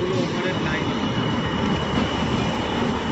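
A train pulls into a station at night in the rain, giving a steady, broad rumble and rushing noise that holds level throughout, with no voices heard.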